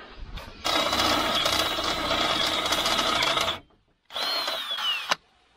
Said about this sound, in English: I have to drill a new one.